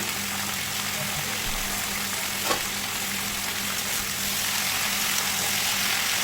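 Chopped, washed cabbage frying in a pan with salt and turmeric powder gives off a dense, even sizzle that holds steady and close throughout, with one faint clink partway.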